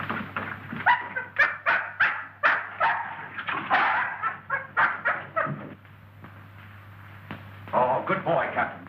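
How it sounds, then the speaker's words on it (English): Captain the dog, struck a nasty blow, gives a run of short yelping barks and whimpers, close and fairly loud, with voices talking over it in an old 1933 film soundtrack. "This dog's been struck a nasty blow."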